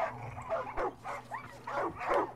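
Dogs in the video game Far Cry 5 give a handful of sharp barks and whimpering yips, spaced irregularly and fairly close, over a low steady game ambience.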